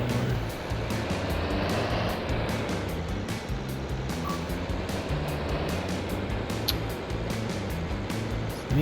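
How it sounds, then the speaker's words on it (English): A tractor engine drives in Farming Simulator 22 on a farm, a steady, close, continuous low rumble that holds at an even level throughout with no talk. "I need to find somewhere to park this tractor"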